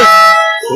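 Basketball shot clock buzzer at a local league game in Binangonan, Rizal, a single loud, harsh electronic blare lasting under a second, close and dominant.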